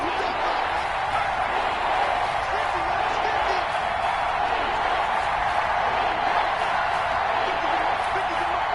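A steady crowd roar fills a PS4 American football video game broadcast late in a close fourth quarter as a big third down approaches, with broad continuous noise holding at an even level throughout.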